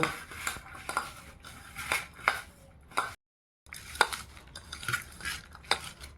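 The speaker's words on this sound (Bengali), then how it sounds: "এবার পেঁয়াজ কুচি লঙ্কা কুচিতে লবণ হলুদ মাখিয়ে নেব" Chopped onion and chili are mixed with salt and turmeric in a bowl, giving repeated close scraping and clinking strokes with one brief pause partway through.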